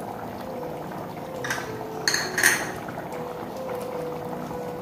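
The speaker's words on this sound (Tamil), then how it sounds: "தண்ணி நல்லா கொதிச்சிருச்சு" Water boils steadily in a pot for vegetable biryani, a constant bubbling hiss with a few louder splashy bursts in the middle, heard alone without any talk.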